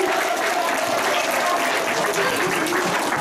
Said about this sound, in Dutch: En ook een geweldig applaus voor Jo.